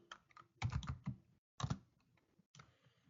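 Bursts of close keystrokes on a computer keyboard while entering a Linux mkdir command, three quick clusters of clicking taps separated by short pauses, quiet and alone.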